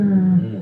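A person's voice imitates a lion's roar: one short, deep, throaty growl held steady for under a second, loud and close, then trailing off slightly.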